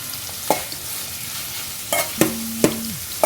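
Curry leaves and chopped green chillies fry in oil in a pan, a faint background sizzle broken by several sharp scraping stirs of a spoon, close by.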